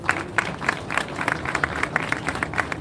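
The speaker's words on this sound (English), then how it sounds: "Shall we do a big round of applause for him?" Applause from an audience at a press freedom awards and honors night in a hotel, steady dense clapping with scattered louder claps throughout, close and sustained.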